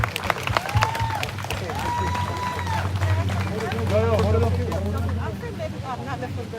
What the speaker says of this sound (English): Everybody give a round of applause for my brother Attica.